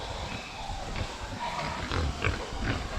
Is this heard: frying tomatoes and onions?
no